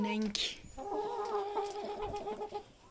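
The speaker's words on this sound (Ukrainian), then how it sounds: "Ось так ходять мої курочки" Backyard hens clucking and murmuring nearby in a series of short throaty calls, with a voice talking softly among them.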